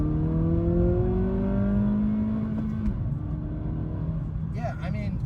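Acura Integra A-Spec with a 6-speed manual pulls hard in second gear, its engine note rising in steady rising harmonics for several seconds, then easing as a voice speaks over the cabin drone.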